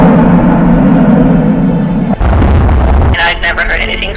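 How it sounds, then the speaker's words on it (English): Strange loud booms rumble in the sky over a neighborhood, deep heavy rolling booms that shift abruptly, with a voice talking over the recording at the end. "Now listen to these strange booms that sound almost from another planet"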